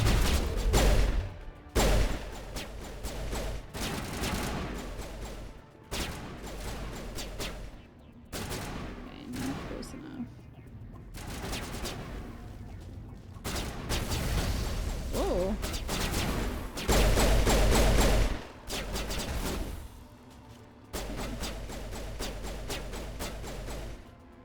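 Repeated bursts of squad gunfire in the Mass Effect Legendary Edition shooter on PS4, loud volleys and rapid fire broken by short pauses across the stretch, with occasional voices in between.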